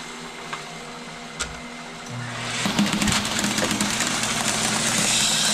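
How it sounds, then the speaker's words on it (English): Planter seed meter disc spinning with its vacuum fan switched on partway through, a steady machine whir rising and holding loud with a rattling, clicking texture; quiet before it starts. "This way it'll start singulating the seed and we'll start the vacuum."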